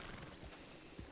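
Horse hooves clip-clop faintly on the ground in the Red Dead Redemption 2 video game, a few soft irregular steps under quiet ambient sound, with a light thud near the end.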